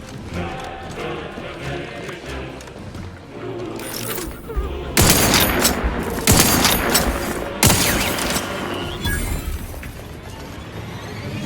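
Gunfire in The Outer Worlds 2 video game: scattered shots and bursts, building into dense loud volleys in the middle, with game voices and effects beneath.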